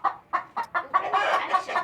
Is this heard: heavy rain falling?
no